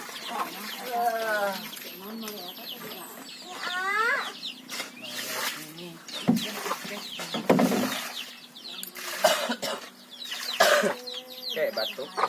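A person coughs in a few short, harsh bursts while at work, with chickens clucking and a rooster crowing close by and voices talking in the background.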